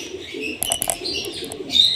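Racing pigeons in a derby loft flap their wings in quick bursts, with soft cooing and faint chirps close by.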